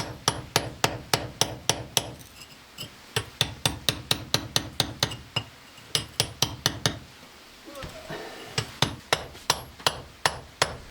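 Sharp metallic hammer blows ring out inside a cave in a steady rapid rhythm, close and loud, pausing briefly twice before resuming, with no talk over them.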